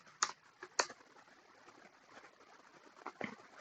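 Keys clatter on a computer keyboard in a few quick, quiet clicks: two sharp taps, a soft patter, then another brief cluster, close and faint in an otherwise quiet room.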